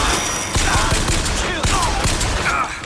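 Rapid bursts of gunfire from the video game BioShock Infinite crackle in steady fusillades, loud and close, with overlapping shots and brief pauses between volleys.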